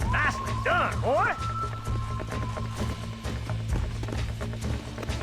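Galloping hooves clip-clopping steadily from a bronco in Red Dead Redemption 2, close and continuous under a faint musical tone and brief vocal sounds.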